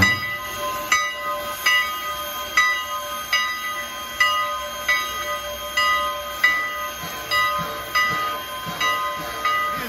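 Steam locomotive whistle taken from an old Pennsylvania Railroad engine, sounding at the Strasburg Railroad in a series of short, regularly spaced chime blasts with a hissing background, fairly distant and alone.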